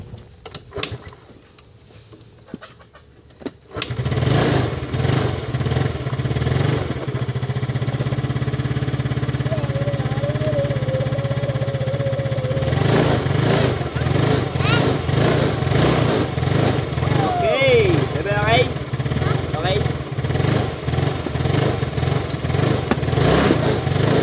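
A Yamaha Mio Soulty motorcycle engine starts and runs steadily after a carburetor cleaning, a loud close idle with some throttle changes, a short whine, and a voice talking briefly over it.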